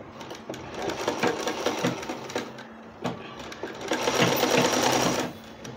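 Sewing machine stitching a cloth langot diaper for a newborn, a loud, close, continuous rattling run with slight surges and a brief dip partway through.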